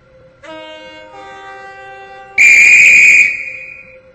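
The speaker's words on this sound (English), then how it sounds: "The train now approaching Platform 1 terminates here." Express train in the SCR video game sounds a multi-tone horn as it approaches a platform, first a softer chord then a loud, bright blast that fades over about a second, heard with no talking.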